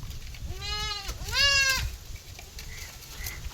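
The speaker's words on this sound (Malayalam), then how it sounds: "വളർത്താൻ പറ്റിയ സിരോയ് ക്രോസിൽ വന്ന ഒരു ചെറിയൊരു പെടക്കുട്ടി" A young female Sirohi cross goat kid bleats twice in quick succession, clear and fairly close, with faint rustling and low background noise around it.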